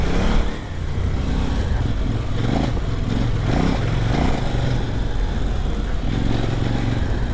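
A KOVE 800 Adventure motorcycle engine drones loudly and steadily while riding, with the rumble rising and falling through throttle changes and heavy wind rush over the top.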